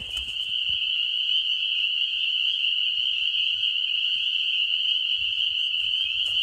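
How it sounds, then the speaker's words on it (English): Loud, steady high-pitched insect trilling fills the air continuously, a dense unbroken chorus of crickets beside Jackson Lake, with faint low rumbles beneath. "these crickets are loud"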